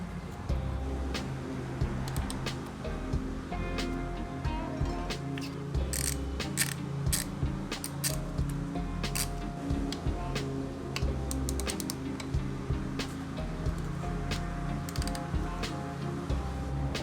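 A tool works the screws on the oil cooler at the bottom of a Ducati Hypermotard, giving a continuous close ratcheting and clicking with bursts of metallic ticks over a steady mechanical hum.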